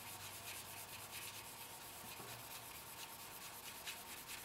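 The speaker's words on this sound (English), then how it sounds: "it's sanding quite well" Fine-grit sandpaper rubbing over a primed surface, a steady dry scratchy hiss with a quick back-and-forth rhythm, close and fairly quiet throughout with no talking.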